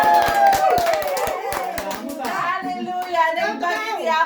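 Audience members at an Ilocano church fellowship gathering in London clap steadily for a special guest, sharp hand claps ringing out close and clear under a speaking voice and some children's voices.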